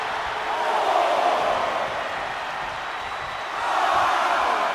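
A simulated arena crowd in the WWE 2K24 wrestling game roars and cheers during a match, a broad steady wash of noise that swells louder twice, with a commentator's voice faintly underneath.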